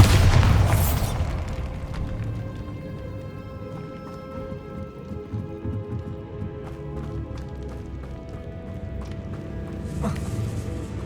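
A Bombarda spell blasts in Hogwarts Legacy, opening with a loud booming burst of debris and rumble that settles into a sustained game soundscape before a second bright crackling flare near the end.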